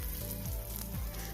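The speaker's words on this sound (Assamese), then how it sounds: "এইফালে তেল আৰু পিঁয়াজ জলকীয়া দি আৰু অকণমান পাঁচফোৰণ দি" Onion and green chilies frying in oil with a little panch phoron in a kadai, giving a steady, soft sizzle heard alone.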